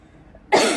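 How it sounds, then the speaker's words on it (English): One sharp, close cough bursts out abruptly after near silence. "I had to cough."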